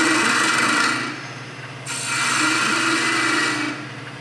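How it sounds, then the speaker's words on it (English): A detail spindle gouge cuts a long-necked hollow wood form spinning on a lathe, giving a steady close scraping hiss. The cut eases off briefly, resumes with a strong pass, then fades toward the end. "I'll go to a detail spindle gouge to work on the first area."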